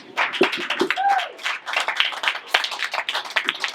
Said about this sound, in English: Give him a good round of applause in your ear